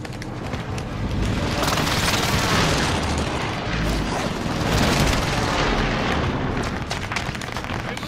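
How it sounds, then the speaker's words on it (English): A precision airstrike in a first-person shooter game brings a continuous roll of heavy explosions, loud booms and rumbling blasts that overlap with no break for several seconds. "Precision airstrike"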